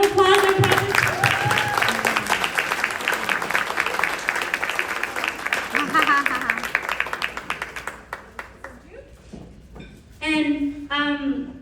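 A round of applause from the audience at a Women's Council of Realtors ceremony, steady clapping carrying under a woman's speech, then thinning out toward the end as she keeps talking.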